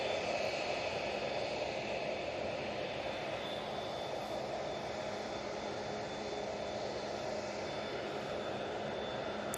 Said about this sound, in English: Lufty coming in from Frankfurt, 319.